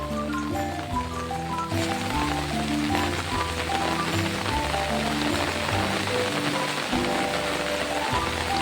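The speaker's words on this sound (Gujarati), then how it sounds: "મિત્ર વરસાદ પણ ચાલુ થઈ ગયો છે" Rain falls steadily on a small farm plot with dragon fruit plants, a dense close patter of drops on surfaces that runs throughout, mixed with a backdrop of music.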